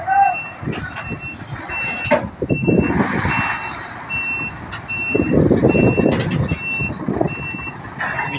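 Loud, evenly spaced reversing beeps sound close by as a tall truck backs into a ship's hold at night during unloading at Dangay port in Roxas, with the diesel engine rumbling underneath and bursts of air brake noise.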